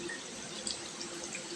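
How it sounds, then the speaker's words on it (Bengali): Tap water runs steadily into a sink as a toothbrush is rinsed, a soft, even trickle with a few faint drips, close by and with no voices. "এবার দেখেন কীভাবে ব্রাশটা ধুয়ে রাখতে হবে।"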